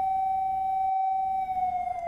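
A police car siren sounds as a steady, piercing tone. It holds for about a second, cuts out briefly, then resumes with a slight wavering. No other sounds accompany it.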